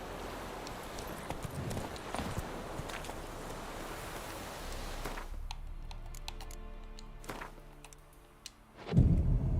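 Roach the horse's hooves clip-clopping in The Witcher 3 on Xbox Series X, a steady rhythmic gallop over rustling ground that cuts to sparser footfalls, ending with a sudden loud thump.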